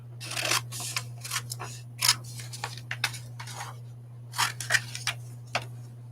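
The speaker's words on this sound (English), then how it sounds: "I'll just cut that out with scissors." Scissors snip through magazine paper in a quiet room, a series of crisp, close cuts arriving in irregular bursts over a low steady hum.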